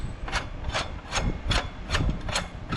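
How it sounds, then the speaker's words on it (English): A hand tool tightens an exhaust pipe clamp on a Case 305, giving a series of about six evenly spaced scraping, ratcheting strokes, close and moderately loud. "I gotta take and tighten up this clamp."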